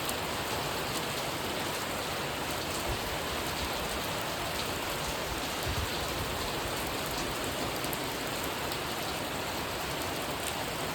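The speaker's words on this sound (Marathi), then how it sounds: "माणगाव रायगडमधला हा पहिला पाऊस आहे" Continuous first monsoon rain pours down in Mangaon, Raigad, in a dense, even hiss, close and fairly loud from start to finish, with no voices.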